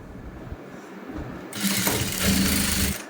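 A sewing machine lock-stitching a blouse seam, a steady whirring hum that begins softly and grows louder and busier midway, running without any talk.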